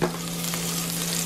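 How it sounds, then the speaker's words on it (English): Spring onions sizzle in hot oil in a frying pan or wok, a close, steady crackling hiss that keeps going without any voices. "Put our spring onions into the oil."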